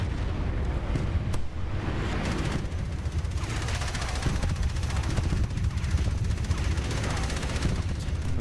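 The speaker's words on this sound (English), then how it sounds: "these machine guns are so annoying, the sound they make" Machine guns fire nonstop in Tanki X, a tank battle game, making a dense, loud, roaring barrage that never lets up, with faint talk underneath.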